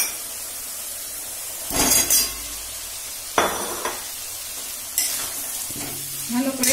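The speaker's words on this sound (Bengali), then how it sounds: "এবারে আমি আলুগুলো দিয়ে দিচ্ছি।" Potatoes tipped into sizzling oil and spice paste for vegetarian Kashmiri alur dom, with loud bursts of frying hiss and scraping stirs that recur every second or so, then die back to a low simmer.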